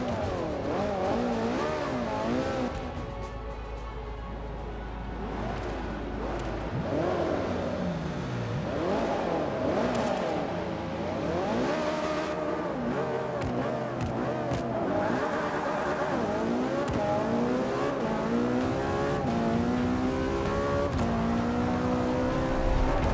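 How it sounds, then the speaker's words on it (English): A race car engine revs continuously in a video game race, the pitch climbing and dropping through gear changes with tire noise, loud and steady throughout with no talking. "Start the car to begin the race."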